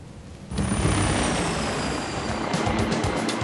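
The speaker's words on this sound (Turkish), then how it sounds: "Milli Savaş Helikopteri Atak" A T129 ATAK military attack helicopter flying, heard as a loud, steady broadband rotor and engine roar that cuts in abruptly and holds without pause, with no voices.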